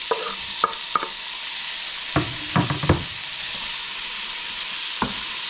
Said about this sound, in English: Fry it, and then I'm going to add my tomatoes.